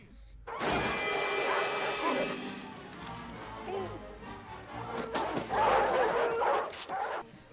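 Several dogs bark and yip in a frantic animated-film chase for a train, mixed with crashes and thumps under an energetic music score, loud and busy throughout.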